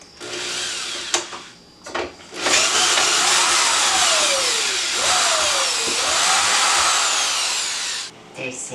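A power drill whines through several long runs while backing screws out of bathroom cabinetry, loud and close, with short pauses and brief clicks between bursts.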